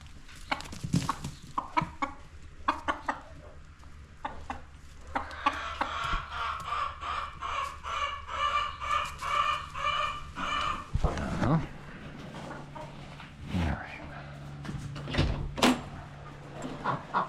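Chickens cluck and squawk near the listener in bursts, with a rapid run of clucking in the middle and some knocks and thumps around it.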